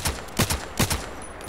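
Gunshots in the shooter game Contract Wars, three or four evenly spaced sharp reports about half a second apart over a steady background hiss, with no talk.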